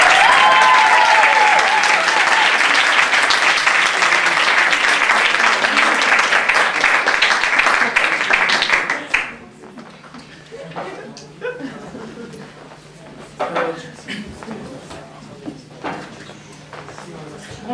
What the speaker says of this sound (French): Avec sa guitare, sous vos applaudissements, Marc Randa.